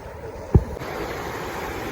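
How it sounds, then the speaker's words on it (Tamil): Sea waves wash in on the beach at Saint-Malo, France, a steady rushing surf with wind noise and one brief low thump partway through. "அலை எப்படி வருது பாருங்க, அலை வந்து இந்த காலை நினைக்குது."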